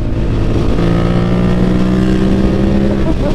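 Modified Yamaha MT-07 with a full racing exhaust cruising on the highway in fourth gear, a loud, steady engine drone with a sustained tone that climbs slightly, mixed with wind rush.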